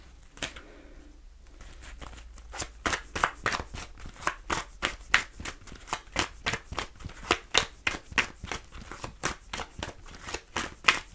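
Tarot cards shuffled by hand in a quick, steady run of crisp riffling snaps, close and fairly loud, continuing alone for most of the stretch after a brief quiet start.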